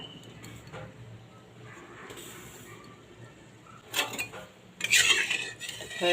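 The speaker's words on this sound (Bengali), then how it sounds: "মশলাটা মিশিয়ে দিচ্ছি আপনারা একবার হলো এইভাবে ডাল আর পোস্ত" A fried spice mix is stirred into cooked lentils and poppy seed in a pot off the heat. A quiet spoon scrapes and clinks against the metal, with a few louder scraping bursts near the end.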